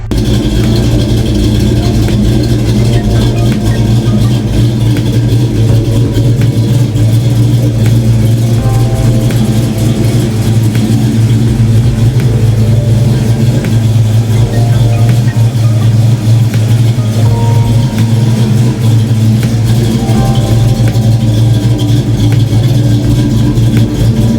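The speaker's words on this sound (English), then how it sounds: "It's got the full exhaust, shorty headers, H-pipe, Flowmaster mufflers, so you know this thing has got to sound good." A car with full exhaust, shorty headers, an H-pipe and Flowmaster mufflers idles loud and close, its choppy, lopey rumble swelling with revs throughout.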